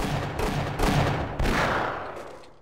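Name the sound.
gunfire in the video game Half-Life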